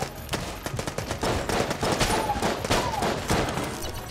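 Enemies shooting in Enter the Gungeon produce dense, rapid overlapping gunfire with repeated sharp shots and a few whistling projectile tones at constant loud volume.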